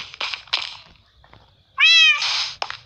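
A cat meows in the Minecraft video game: one loud, drawn-out meow near the end, after a stretch of quieter game noises and a few soft clicks.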